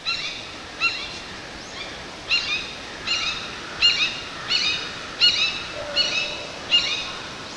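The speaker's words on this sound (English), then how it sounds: "The red-shouldered hawk has a shorter kia," Red-shouldered hawk calling a repeated series of short, clear kia notes, about ten evenly spaced cries in quick rhythm, fairly near and alone against a quiet background.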